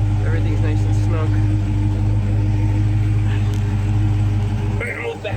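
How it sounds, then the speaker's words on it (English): A Dodge Charger Hellcat with an active exhaust simulator idles with a loud, steady, deep engine drone close by, continuous for the whole stretch. "Car's on. It's loud."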